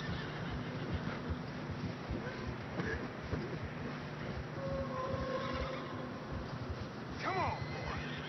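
Video game horses in Red Dead Redemption 2 whinny over a continuous rumble of movement and hoofbeats in fresh snow, with a louder neigh near the end; the whole scene sounds fairly quiet and distant.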